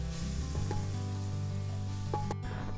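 Ground masala paste for kuska hisses in hot oil over a steady low hum, with a few light clinks near the end.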